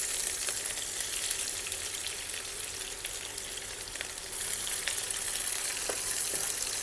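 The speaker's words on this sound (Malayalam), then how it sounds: "എണ്ണ ചൂടായിട്ടുണ്ട്. അതിലേക്ക് കുറച്ച് പെരുംജീരകം, എന്നിട്ട് നമ്മൾ അരിഞ്ഞു വെച്ച് 2 സവാളയില്ലേ അതിടാം." Fennel seeds and sliced onions crackle and hiss in hot sunflower oil, a dense continuous sizzle with scattered pops, close and steady, no voices.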